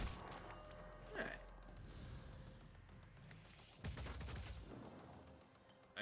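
Video game gunfire with bullets flying: scattered shots and volleys crack out over a steady rumbling backdrop, with two louder bursts standing out.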